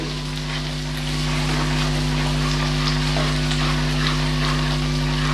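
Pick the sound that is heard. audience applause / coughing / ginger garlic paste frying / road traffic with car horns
ginger garlic paste frying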